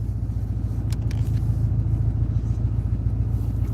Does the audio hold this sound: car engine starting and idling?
yes